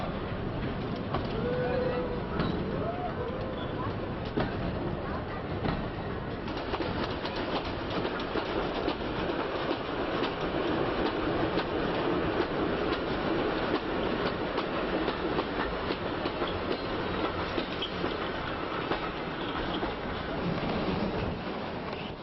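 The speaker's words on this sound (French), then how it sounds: "Le train se faufile sur une digue entre le Lèze et les étangs." Palavas small train rolling along the rails on a causeway between the Lez river and coastal lagoons, with continuous rumbling, rhythmic clickety-clack of wheels and occasional squeals, steady and fairly close, while someone talks now and then.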